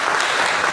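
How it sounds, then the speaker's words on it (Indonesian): A short burst of dense applause from a community audience at an Indonesian Pancasila ideology outreach event, loud and continuous with no pauses. "Tepuk tangan untuk masyarakat"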